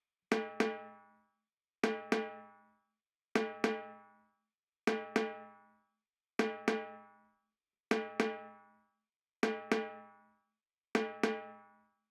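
Tin pan sample in a beat, struck in bright metallic pairs of notes that repeat eight times at an even pace, each ringing out and decaying into silence, faint with no voices.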